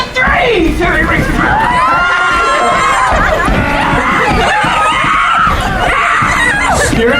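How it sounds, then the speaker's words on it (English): A Renaissance festival audience screams, yells and cheers continuously during a chariot race game, a dense loud wall of mixed adult and children's voices with shrieks rising and falling throughout. "You're going to scream. You're going to whip that horse. You're going to yell for your horse to go, go, go."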